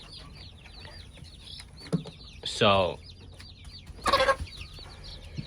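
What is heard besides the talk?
backyard naked neck chickens clucking in the coop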